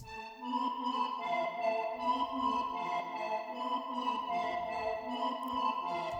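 A bright synth bell melody sits over layered sustained tones, chiming steadily in a smooth, reverberant blend with no talking.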